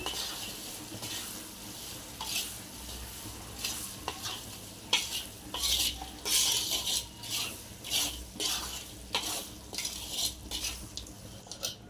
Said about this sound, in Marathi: आता ह्याला व्यवस्थित आपण हलवून घेऊया, एकजीव करून घेऊया।